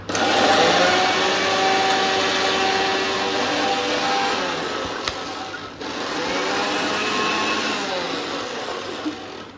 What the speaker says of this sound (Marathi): मस्तपैकी मिक्सरचं बटन चालू करत होता